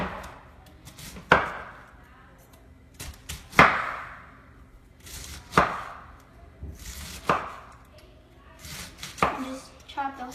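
A knife chopping through a quarter head of cabbage on a cutting board for coleslaw, several separate sharp chops with short pauses between them, close and clear with no talking.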